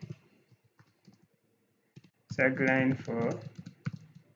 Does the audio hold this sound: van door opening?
no